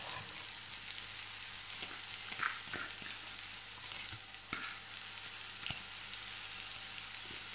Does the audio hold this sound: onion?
yes